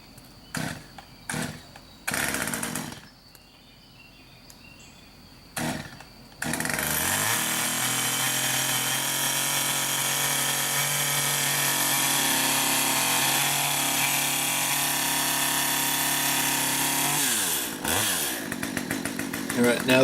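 A Stihl MS 193T chainsaw being started from cold: a few short bursts from the pull-starter come first, then the engine catches and runs at a loud, steady whine close by, with a rev toward the end.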